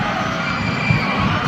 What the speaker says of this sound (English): you can hear the crowd at Phil Sports Arena